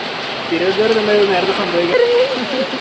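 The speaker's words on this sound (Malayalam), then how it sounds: "മഴയോട് മഴ, പെരുമഴ." Heavy rain pours down in Kottayam, a dense, loud rushing hiss of falling water, while a voice speaks or hums over it for most of the clip.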